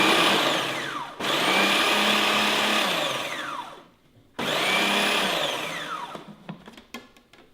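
A food processor pulses cauliflower into rice in two loud whirring bursts, each starting abruptly and winding down, followed by light clatter and tapping.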